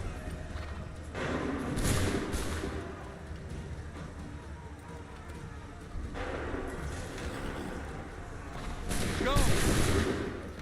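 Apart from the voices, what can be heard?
gunfire and cannon fire in Assassin's Creed III video game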